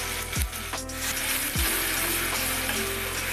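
Tomato pulp goes into a hot frying pan with garlic, giving a steady, close sizzle with a couple of sharp scraping clacks from a utensil against the pan early on.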